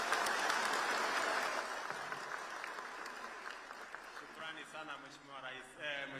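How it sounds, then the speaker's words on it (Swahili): Applause welcoming the President at a State House address to chiefs, loud at first and gradually thinning out, with a voice speaking over the fading claps toward the end. "Makofi."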